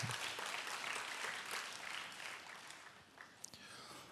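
A church congregation applauds during a Friday prayer meeting in Daegu, with a soft, distant, continuous patter of clapping and a few sharper taps near the end.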